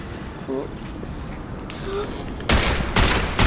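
Rapid gunfire erupts in the video game Deus Ex Mankind Divided, loud bursts of close shots that start suddenly partway through after quieter moments with a few short voiced sounds.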